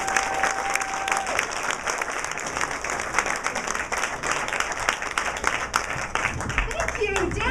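A comedy club crowd at a cinema cafe breaks into loud, sustained applause with cheering, a dense wash of clapping that fills the room and holds steady throughout.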